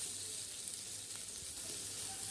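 Onion, tomato and masala spice powder fry in a pan for chicken curry, a soft steady sizzle with light stirring, close and fairly quiet, with no talking.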